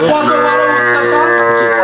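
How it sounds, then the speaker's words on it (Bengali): A large Indian dairy cow on a farm gives one loud, sustained, close-up moo that lasts about two seconds. "স্বপন ভাই দর্শকরা দেখতে পাচ্ছেন আমরা এই সাইড থেকে আপনারা দেখাই দিই গাভীটা কত বড়"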